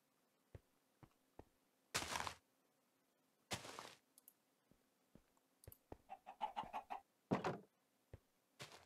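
Chickens cluck in Minecraft Sky Factory 3, with short bursts and a few louder squawks scattered irregularly among faint ticking clicks, fairly quiet and close, with no one talking.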